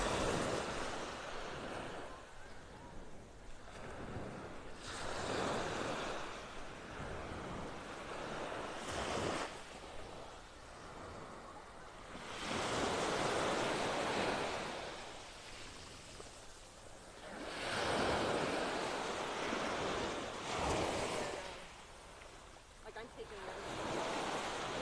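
Gentle ocean surf on Vanderbilt Beach in North Naples, Florida, swelling and receding in slow, regular waves with soft hissing wash, accompanied by light wind buffeting the microphone and no speech.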